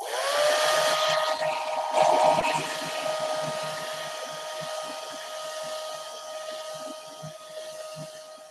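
Electric dryer, like a heat tool or hair dryer, blowing steadily over a wet altered book page, a continuous whooshing hiss with a steady whine, loudest at first then holding evenly with faint handling noises.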